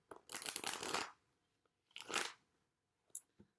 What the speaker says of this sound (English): Virgo wants one more shuffle.